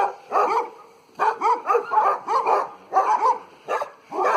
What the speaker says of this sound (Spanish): acá este barrio abundan los perros de miércoles